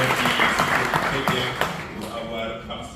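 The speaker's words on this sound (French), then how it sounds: "Je vous prie de l'applaudir" An audience at a literary event in Geneva applauds for an introduced guest, a dense wash of clapping that fades over three seconds.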